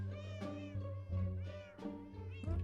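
Cat meowing in the video game Minecraft, several short tonal meows in a row, clear and close over a steady low hum, no talking.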